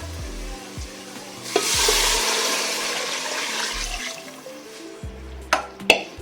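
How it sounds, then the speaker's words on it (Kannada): Water poured into a pan of frying chicken curry with green chillies sets off a loud burst of hissing sizzle that settles into steady frying, with a few clinks of a utensil near the end. "ಇದಕ್ಕೆ ಈಗ ನಾನು ನೀರು ಹಾಕ್ತೀನಿ."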